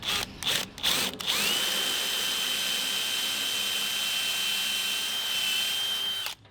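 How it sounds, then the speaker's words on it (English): A power drill whirs up to a steady high-pitched whine as it bores a hole about 60 mm deep into the center of a wooden fence post, holding for several seconds after a few short starts, then stopping. "we're going to drill a hole about 60 mil down in the center of this post"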